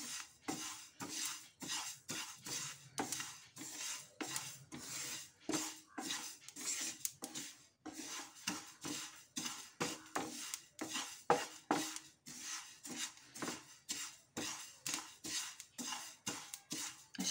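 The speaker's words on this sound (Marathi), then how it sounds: "छान मंद आचेवरती हळूवारपणे असे तीळ हलवत" Sesame seeds are stirred as they dry-roast slowly in a pan over low heat, producing a quiet, rhythmic scraping and rattling of utensil on metal that repeats steadily throughout, close and without speech.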